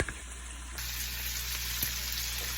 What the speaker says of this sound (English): I'm back cooking this bacon